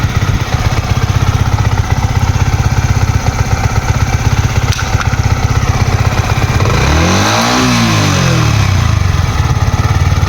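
A car engine revved lightly to push coolant oil out, loud and close, a steady running drone with a rising-then-falling rev swell near the end.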